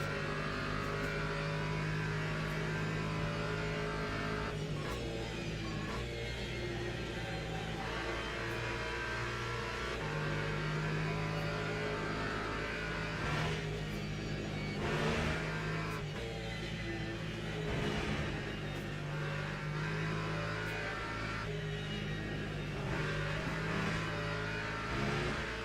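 Porsche race car engine in a Le Mans racing video game, a loud continuous roar that rises and falls as it revs and shifts gears, filling the whole stretch with no talking.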